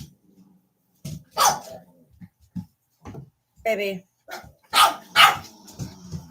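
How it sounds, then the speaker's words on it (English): A dog barks repeatedly at a wall indoors, sharp close barks in irregular bursts with short gaps, mixed with brief spoken words. "He's barking at the wall."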